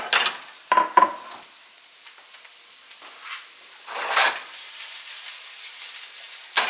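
Half of the garlic goes into hot oil for zucchini noodles, crackling with bursts of sizzle and a few sharp stirring scrapes, then settling into a quieter hiss with no one speaking.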